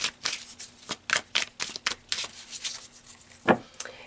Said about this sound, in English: So let's pull a few more cards